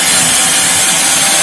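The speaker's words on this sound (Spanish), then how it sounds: "Vamos a ver qué tan fácil y qué tan rápido ingresa el tornillo en esta pieza de madera." A Promaker PRO-TI18.2 cordless 18V Li-ion drill driver sinks a screw into a piece of wood, giving a steady, loud whirring grind that runs unbroken and close up for the whole moment.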